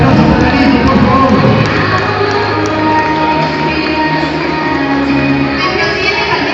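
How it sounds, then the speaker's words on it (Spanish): A school election event crowd in Río Gallegos cheers and shouts loudly for a participant, children's voices prominent in a dense, sustained roar. "Un fuerte aplauso para Nico, por favor."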